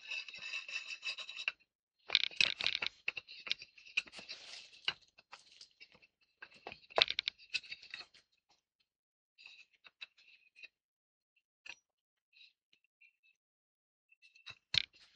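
A screw is turned by hand into its threaded hole during assembly, giving quiet, close, intermittent scratchy clicks and rasping bursts separated by silent pauses.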